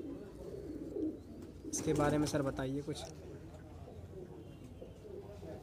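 A Nakta pigeon, a Madrasi breed, coos in low repeated throaty phrases nearby while someone talks over and around the calls.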